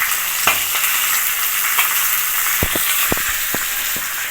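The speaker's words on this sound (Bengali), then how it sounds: "আর মাছটা আমি ভাজা বসিয়ে দিয়েছি।" Rohu fish frying in a pan, a steady sizzle and hiss with a few sharp pops and crackles near the end, close and alone.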